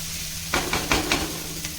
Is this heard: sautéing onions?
yes